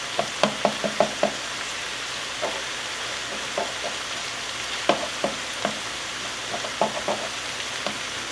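Ginger and garlic sauté in a pan with a soft, steady sizzle, broken by sharp taps and clicks of a utensil stirring, in quick bursts early on and then spread out.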